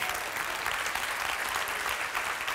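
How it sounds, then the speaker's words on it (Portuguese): Church congregation applauding during a Portuguese-language sermon: dense, steady clapping from many hands fills the whole stretch, loud and close with no break. "Vamos aplaudir mais ao Senhor"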